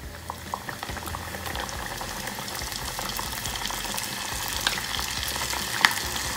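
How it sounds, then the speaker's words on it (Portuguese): Pastéis frying in hot oil over a wood fire, with a steady, close bubbling sizzle and occasional soft pops throughout and no talk. "E agora é só fritar todos."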